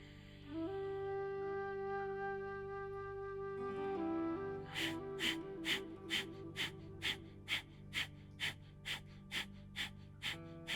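A slow, deep inhale during a beginner hatha yoga pranayama exercise is drawn audibly over soft sustained music, which then gives way to a regular pulsing beat.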